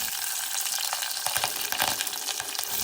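A spoonful of mustard seeds, two or three dried red chilies, a sprig of curry leaves and slit green chilies fry in hot oil, giving a steady, close crackling sizzle with scattered sharper pops and no talking.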